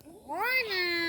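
A myna bird at a safari park imitates a cat's meow, a single drawn-out, rising-then-falling mew about a second long, close and clear.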